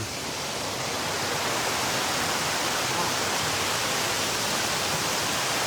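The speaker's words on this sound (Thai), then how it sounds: "เนี่ยเสียงน้ำตก" A steady, loud rush of falling water roars without pause, dense and even, like standing close to a waterfall.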